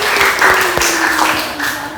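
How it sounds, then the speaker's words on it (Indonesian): Classroom of students giving a short burst of applause for a classmate after a dance lesson, a steady patter of hand claps with a few sharper individual claps, fairly close. "beri tepuk tangan untuk Faisal."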